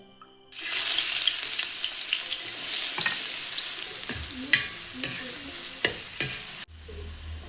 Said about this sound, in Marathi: तवा तापला तर तेल टाकून घेते